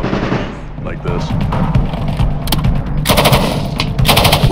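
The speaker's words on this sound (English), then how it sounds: "Eventually we ended up doing live fire shooting and like this." Live-fire machine gun shooting during weapons training on a range, sustained bursts and rapid rattling shots, loud and sharp with bursts starting and stopping, mixed with other gunfire.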